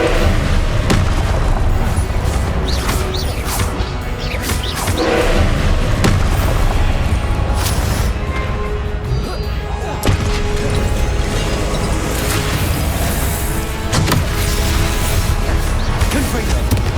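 Repeated Confringo blasting-spell explosions from the Hogwarts Legacy video game, heavy booming thuds and crashes layered continuously over dense game noise throughout, with some voice mixed in.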